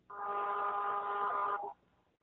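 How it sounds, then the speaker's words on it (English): A mobile phone rings in a training room, giving a single electronic, tonal burst of about one and a half seconds that stops abruptly, heard alone against quiet. "Alfred, your phone is making some disturbance"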